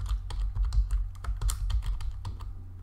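Fast, irregular keystrokes clatter on a computer keyboard as a file name is typed, close and crisp with no talking.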